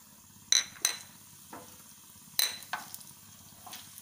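Cumin and black pepper dropped into hot oil for a Coimbatore fish curry, giving soft crackling sizzle with a few sharp pops and spoon clinks against the pan, fairly quiet and close, no talking.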